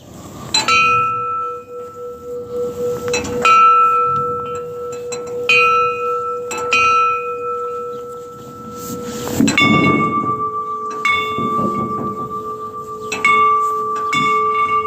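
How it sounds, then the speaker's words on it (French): Hand-rung carillon bells with a slightly rusty mechanism, struck one after another in uneven, clanging strikes whose bright ringing tones sustain and overlap, fairly close and loud. "Ouais, un carillon, ouais. Effectivement un carillon."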